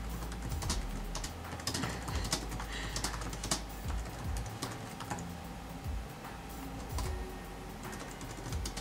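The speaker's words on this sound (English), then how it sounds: "So I'm having to type my questions." Typing on a computer keyboard during a Skype interview, with rapid irregular key clicks in a steady close stream and no talk.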